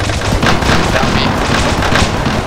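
Airsoft guns fire in rapid bursts during a team skirmish, with loud, close cracks and rattling volleys packed densely together, and voices faintly underneath.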